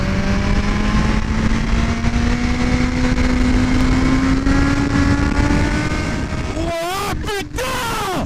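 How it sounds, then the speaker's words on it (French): A Kawasaki ZH2 motorcycle with a supercharger and an Akrapovic exhaust gives a loud, steady engine drone with a supercharger whine that climbs slowly in pitch. It ends in a few sharp, close revs. "cette sonorité de turbine, enfin de compresseur et de l'acra qu'il y a dessus, c'est un combo qui est incroyable"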